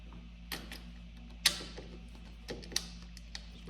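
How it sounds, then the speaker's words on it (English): Bolt threaded through a spacer while fitting a controller skid plate to a Magicycle e-bike, giving a few faint, sparse metallic clicks and ticks over quiet room hiss. "Stick it through the spacer, line this all up, and start your bolt into place."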